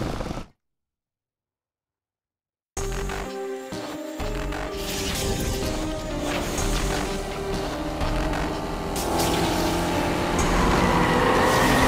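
Race car engines in the street-racing game Need for Speed Unbound start after a brief silence, building into a loud, continuous revving roar with rising intensity, no voices.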